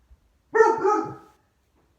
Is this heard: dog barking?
yes